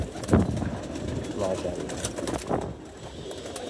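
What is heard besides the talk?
pigeons cooing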